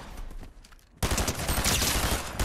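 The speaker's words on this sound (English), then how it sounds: "This SMG is like nasty" Rapid submachine gun fire from a video game bursts in after a short quieter stretch and then keeps going as a dense, loud, continuous stream of shots.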